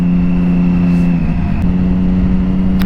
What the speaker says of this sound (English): when you want to upshift, you just off throttle and you can like blip up because they're sequential